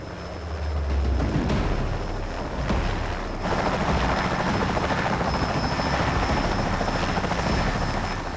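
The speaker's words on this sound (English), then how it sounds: "Chief Albert Bahri cleared a farmer's field for a STARS air ambulance landing." A STARS air ambulance helicopter landing in a farmer's field roars loudly and steadily nearby, its rotor thumping continuously throughout with a constant heavy wash of noise.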